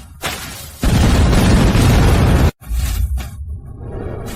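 A deep explosion effect for mountain fireworks in a drama, a loud rumbling boom with a crackling debris tail that cuts off, followed by a smaller burst and fading rumble.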